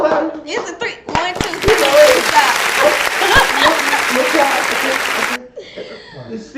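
Studio audience applause during a talk-show taping: sharp scattered claps at the start, then a burst of full crowd clapping with a few chuckles that cuts off abruptly, followed by quieter sounds.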